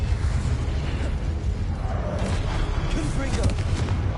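Casting the Incendio fire spell in Hogwarts Legacy unleashes a dense, roaring rush of flame, with rumbling bursts and crackling pops sustained loudly throughout.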